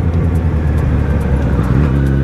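A Yamaha XJ6 motorcycle engine, smoking heavily after diesel was poured into its exhaust, runs loud and close with a continuous throbbing drone and slight revving, with no voices.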